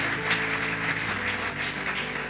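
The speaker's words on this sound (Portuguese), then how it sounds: "Aplauda o Senhor, queridos." A church congregation claps steadily, a thick even patter of hands over a sustained organ-like tone, lasting a couple of seconds.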